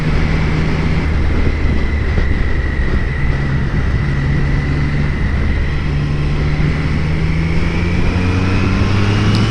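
Triumph Street Triple 765 R motorcycle, a 2025 model, riding through a corner with steady loud engine drone and rising harmonic pitch, heavy wind rumble throughout, no voices.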